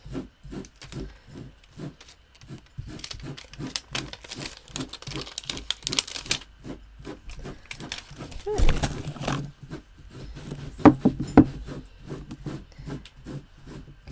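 A pet dog digs nearby, giving rapid rhythmic scratching and rubbing strokes that come in bursts, with a louder crinkly scuffle partway through and scattered paper-crafting rustles around it.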